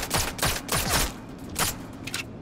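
Gunfire in the video game Sniper Elite 5: a rapid run of about half a dozen sharp, loud shots in quick, uneven succession, with no talking over them.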